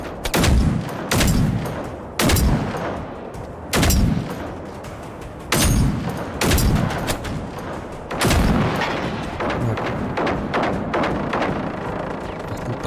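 Bursts of heavy automatic gunfire from a minigun in the Generation Zero video game, several loud rattling volleys separated by short gaps, with no speech.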